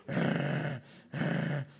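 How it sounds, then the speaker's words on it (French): A wolf growls twice in low, rough rumbles, each lasting under a second with a short pause between, close and alone. "tu entends un grognement à côté"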